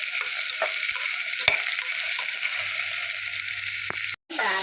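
Onion, curry leaves and green chilies sauté in a hot pan with a continuous bright sizzle, broken by occasional stirring clicks and a brief gap near the end.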